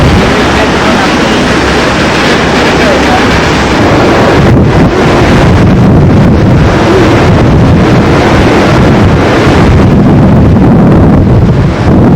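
Strong coastal wind in Tasmania buffets the microphone in a loud, continuous rumble, with rushing gusts and a faint wash of water beneath.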